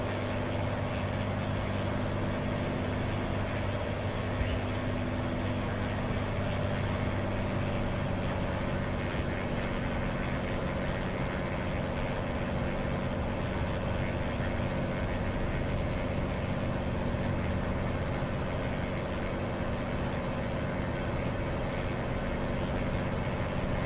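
Truck engine in Euro Truck Simulator, a steady low droning hum with faint tonal lines, held at a constant level throughout with no clear rise in revs and no talk.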